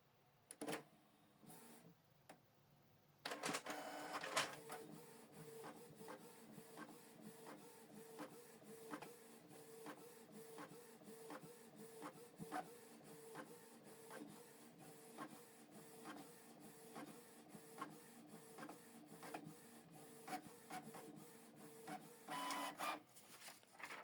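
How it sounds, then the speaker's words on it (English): A Canon PIXMA TS3150 inkjet printer runs off a test page, starting after a brief quiet start with a sustained mechanical whir, rhythmic clicks and the print head shuttling back and forth, heard nearby and steady for over twenty seconds. "Then you select Start to print the test page."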